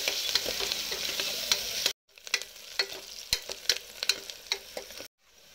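Two chopped onions fry in hot oil with a piece of cinnamon and star anise for a mutton trotters curry, crackling sizzle broken by sharp pops and spoon clicks, interrupted by brief silent gaps.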